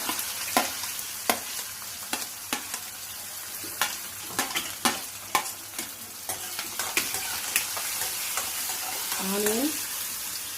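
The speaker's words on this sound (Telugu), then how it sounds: "ఫ్రై అయిన తర్వాత ఇందులో ఆనియన్ వేసాను" Onion hits a hot tempering for sabudana khichdi and fries with a steady sizzle, punctuated by sharp crackles and pops every half second or so, close up, with a brief vocal sound near the end.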